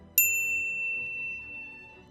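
A single bright notification bell dings once, then its clear metallic ring fades slowly over about two seconds into quiet background.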